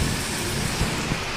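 Steady heavy rain pours in a coastal Konkan creek area while low thunder rumbles beneath it in a few soft swells, the downpour dense and continuous throughout.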